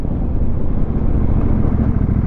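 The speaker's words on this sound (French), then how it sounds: "On va tester un peu le freinage." A CF Moto 800 MT Explorer motorcycle rumbles along during a braking test, heard as a steady low engine and road roar mixed with wind buffeting, loud and close with no clear pauses.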